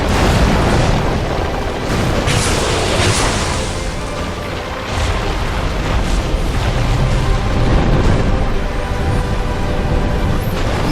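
In Dark Souls II, the poisonous dragon Sinh spits fireballs that burst against the floor, giving loud, roaring booms and crashing blasts that run almost without pause, dense and close.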